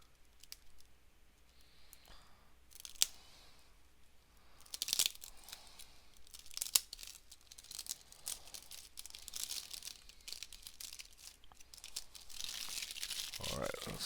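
Yu-Gi-Oh! Albaz Strike structure deck packaging being torn and crinkled open, with crisp tearing bursts and plastic rustle scattered over about fourteen seconds, louder near the end.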